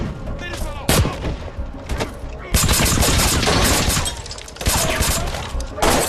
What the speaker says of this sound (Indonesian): Sayangnya, Gopal berhasil menembak Tyler di bagian perut